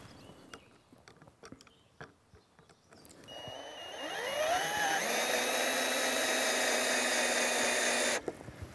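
Power driver sinking a screw into timber while laying a garden patio: scattered handling knocks, then a close, loud whine that rises in pitch and holds steady for several seconds before cutting off abruptly.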